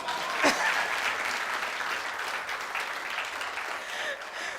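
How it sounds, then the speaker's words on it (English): A TEDx audience at Nile University of Nigeria claps in a dense, sustained burst, one sharp clap standing out near the start, the applause holding steady at a fairly loud level without speech. "Please clap for me."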